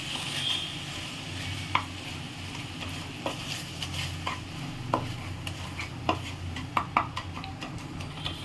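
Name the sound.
stirring caramel with milk in a pan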